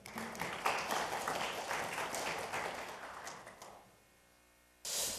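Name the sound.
audience applause for presenter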